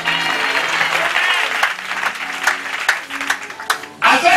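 A church congregation at a Sunday service claps in loud, sustained applause with crowd noise, and voices are heard over it.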